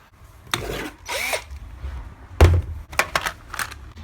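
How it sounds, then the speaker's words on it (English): Several short bursts of a power drill whining and grinding as a wood drill bit bores a hole in steel, with pauses and a couple of thunks between them, close and fairly loud. "Start by drilling the hole."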